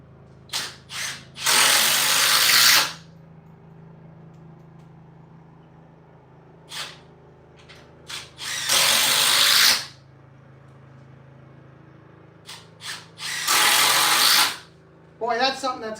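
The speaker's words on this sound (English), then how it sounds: "Drill technology. This little 12 volt just kicks butt." A 12-volt cordless drill drives screws into wood while a carrera table is built, giving three loud, separate bursts of whirring a few seconds apart, with quiet pauses between them.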